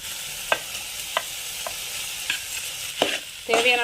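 Chana masala and cooked rice are stirred and mixed in a hot pan, giving a constant sizzle broken by sharp spatula scrapes and clacks at irregular intervals, growing busier toward the end.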